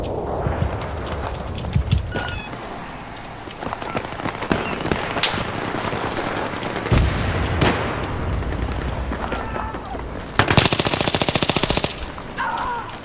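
Rapid bursts of machine gun fire in Battlefield 3 during a Noshahr Canals battle, crackling in short runs over busy combat noise, with a dense sustained burst near the end.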